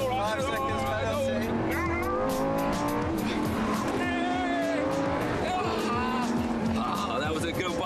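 A race car launches off the line in a drag race against a motorbike, its engine roaring loudly and steadily with rising pitch sweeps as it accelerates, tyres squealing, with voices talking over it throughout.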